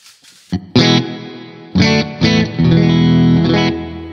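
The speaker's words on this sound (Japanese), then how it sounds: "ホールというか、なんていうか、まあ、ロングなリバーブになっていきますね。" A Strymon Cloudburst reverb pedal set to a long reverb processes a few sustained instrumental chords and notes, each swelling and trailing off into a wide, lingering wash, loud and alone without voices.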